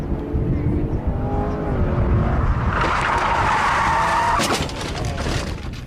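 Car driven hard through cones in a big parking lot at autocross, a loud steady engine roar with tires squealing and skidding through the second half.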